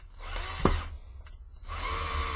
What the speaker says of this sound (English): hold this up here and drill this on the other side